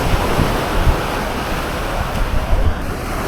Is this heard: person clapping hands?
no